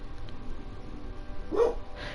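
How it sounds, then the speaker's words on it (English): A single dog bark sounds at the door, a short sharp yelp near the end, over a steady background rumble. "It seems like Lily's barking at the door for some reason"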